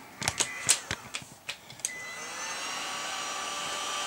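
Several sharp clicks and handling knocks at the start, then a small hot air gun switches on into a steady hissing blow while heat shrink tubing is shrunk during a power supply rebuild, close by and without talk.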